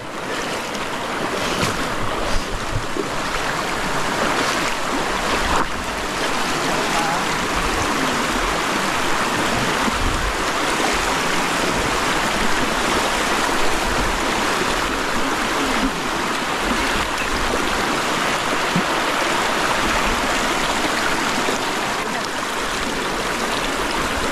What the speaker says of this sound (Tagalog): Ang lawak ng ilog at ang linaw.